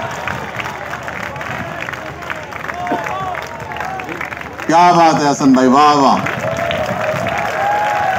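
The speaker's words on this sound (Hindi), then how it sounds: "ये तालियां आपके लिए हैं" Audience applause and cheering fill a large hall at an international mushaira poetry gathering at the Karachi Expo Center, heard throughout with an announcer's voice and approving calls rising above it midway.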